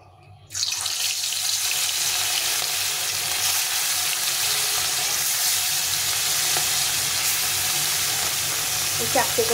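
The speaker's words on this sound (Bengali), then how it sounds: "চলো বন্ধুরা মাছটা প্রথমে ভেজে নিই" Bata fish hitting a pan with a little oil bursts into a loud, continuous sizzle that crackles and spits steadily without letting up.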